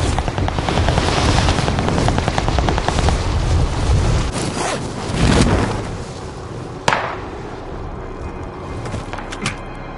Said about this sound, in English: Planes are making ready for deployment.